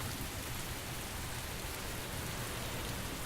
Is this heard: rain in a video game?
yes